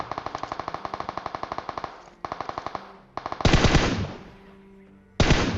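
Automatic gunfire from the PUBG Mobile video game rattles in rapid, evenly spaced bursts with short pauses, ending in louder, heavier booming shots, with no talk over it.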